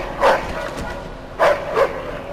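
A dog barks in the Mafia 2 video game, three sharp barks, the first alone and then a quick pair, fairly close against a quiet outdoor background.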